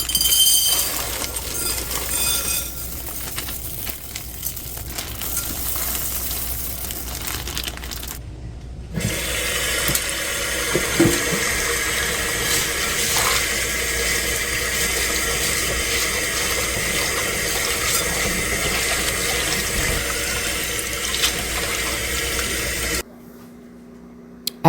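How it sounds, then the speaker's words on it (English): Split peas rinsed in a strainer under a running kitchen tap give a continuous rushing hiss of water that shifts in tone partway through, steady and close, then cuts off near the end. "put them into our strainer here and wash them off and pick out any bad ones or rocks that might be in there"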